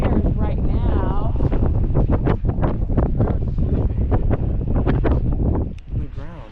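Wind gusting across a bridge over a river in Katmai National Park, a steady loud roar buffeting the microphone throughout, with a voice talking over it.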